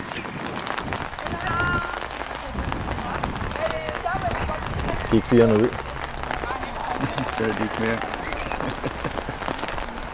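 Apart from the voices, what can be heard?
heavy rain falling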